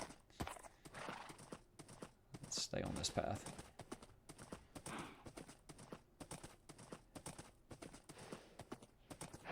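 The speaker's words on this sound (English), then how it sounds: "I want to see if the horse will make it across with me on" Horse hooves clip-clop steadily across ground in Minecraft, with an occasional whinny, continuing under a player's talk.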